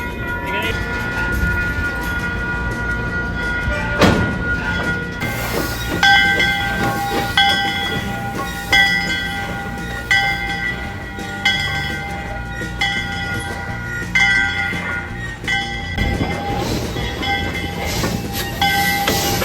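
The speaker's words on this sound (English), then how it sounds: "the train needs to cross over the road into the yard in a very cool fashion" Heritage steam locomotive number 85 rolls across a road into the rail yard, a steady loud rumble of cars with repeated wheel clatter and a brief whistle-like tone, close by, with some voices mixed in.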